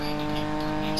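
A car engine losing power in a video game, a steady droning hum with layered tones held for a second, fairly loud and with no one talking.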